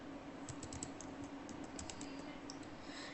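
Typing on a computer keyboard while entering a database command, with soft, irregular key clicks close up over a steady background hum.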